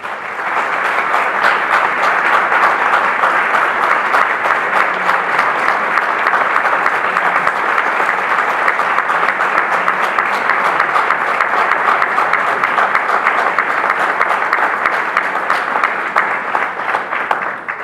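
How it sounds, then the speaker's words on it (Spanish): A sustained round of audience applause fills a hall at a tribute event in Güimar, honoring the daughter of local hero Miguel Campos Delgado. The dense clapping runs steady and loud throughout, with no talk over it. "Yo quisiera pedir un aplauso para ella."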